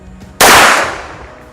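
A single loud, close shot from a Fox Hunter 9 mm rubber-bullet self-defense pistol, a sharp crack followed by a decaying ring, with no talking.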